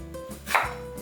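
A knife slices through the end of an onion half on a cutting board in a meal-prep kitchen, one short crisp cut rising briefly over low background hum.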